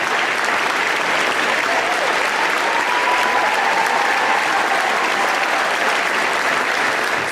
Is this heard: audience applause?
yes